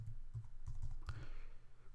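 Keys tapped on a computer keyboard, a few soft close clicks in an uneven rhythm against a quiet room background.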